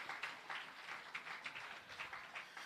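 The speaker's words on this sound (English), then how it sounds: "So give yourselves another round of applause." A justice conference audience applauds, with faint, distant clapping that rises and falls in soft waves and has no voices over it.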